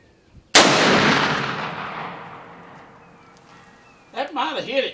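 A single sharp handgun shot fired while hunting cracks loudly and close, its echo rolling away over several seconds before voices start talking at the end.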